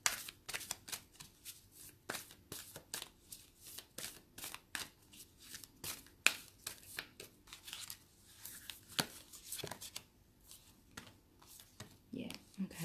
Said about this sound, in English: Just pulling out a few cards so I can get a story.